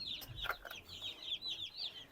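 Broiler chicks and naked-neck chicks cheep in a rapid run of thin, high peeps, close by and fairly faint, with a few soft knocks underneath.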